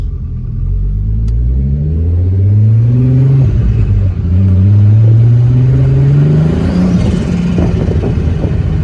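A VR6 turbo-swapped Toyota MR2 Roadster pulls away from inside the cabin, its engine droning loud and near as the pitch climbs smoothly through repeated rises of acceleration and gear changes.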